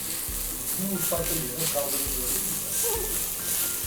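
Ground beef sizzles and fries over onions in a pan, a steady crackle with stirring scrapes, heard under continuous talk.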